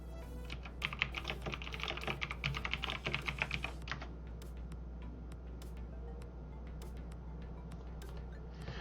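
Quick clicking keystrokes on a computer keyboard, a busy patter of typing for the first few seconds, then sparser single taps over a low steady hum.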